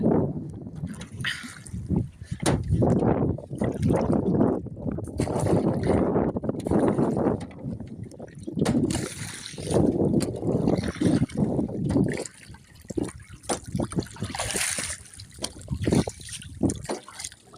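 Water sloshing and rippling around a small boat crossing a full, swollen river, with gusty wind and occasional knocks and creaks of the hull.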